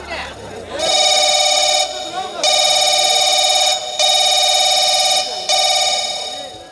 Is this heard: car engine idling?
no